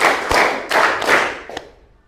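Group of people standing for a rhythmic clapping ice-breaker, giving several claps in unison, loud and close, with the last clap fainter as the sound trails off.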